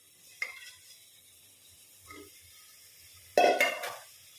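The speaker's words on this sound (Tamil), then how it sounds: "வாஷ் பண்ண எல்லா காலையும் குக்கரில் சேர்த்துக்கலாங்க." Washed mutton trotters dropped into a pressure cooker, a few faint clunks and a louder final clatter of meat and metal, close and otherwise quiet.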